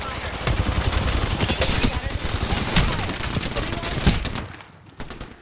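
Sustained rapid gunfire in a video game firefight, many sharp shots in quick succession for several seconds before tapering off, with voices faintly underneath.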